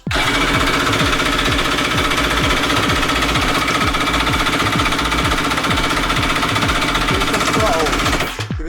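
A 750 jet ski engine on its first dry start turns over and fires in a loud, rapid, hammering rhythm close by, running continuously before cutting out at the end.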